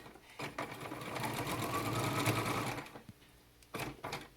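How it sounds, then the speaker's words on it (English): A sewing machine runs a seam on a fabric mask in one continuous whirring burst of rapid needle stitching, close and moderately loud, bracketed by brief handling clicks, with no voices. "we're going to run a seam all the way down here"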